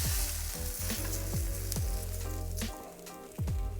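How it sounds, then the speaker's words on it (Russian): Burger patties fry in a pan with a loud, steady sizzle, broken by several sharp scrapes and clatters as they are moved or turned, with no talking. "пожарить котлеты – дело не хитрое"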